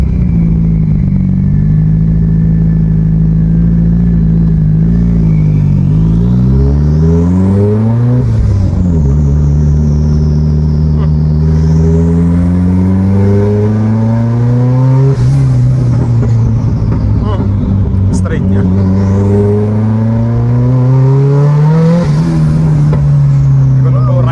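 A turbocharged 192 kW Opel Corsa pulls hard through the gears, its loud engine note climbing steeply, dropping at each shift and rising again, with wind and cabin noise and people talking inside the car.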